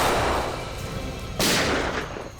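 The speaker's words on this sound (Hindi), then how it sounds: "सर फायरिंग हो रही है" Loud, close gunfire in a dense, continuous roar with a sharp fresh blast midway, heard during a roadside ambush setting in a crime drama, with no voices.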